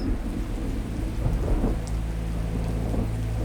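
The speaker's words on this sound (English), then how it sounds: "the rains came back for an hour or so" Steady rain falls on a Thai island with a low rumble of thunder rolling underneath, continuous and enveloping, with no voices.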